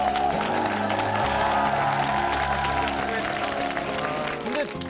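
Studio audience on a Korean TV talk show applauding, a steady clatter of hands mixed with music and some cheering, continuous throughout.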